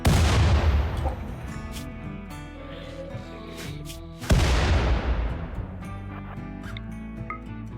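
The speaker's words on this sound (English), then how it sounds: "You want to keep throwing grenades?" Grenade explosions in the RimWorld video game, two sharp booming blasts a few seconds apart, each decaying into game sound effects and faint background music.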